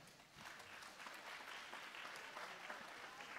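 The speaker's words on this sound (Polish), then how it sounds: "Gorące brawa." Warm applause from an audience at a university open day, steady clapping filling the room at a faint, distant level with no talk over it.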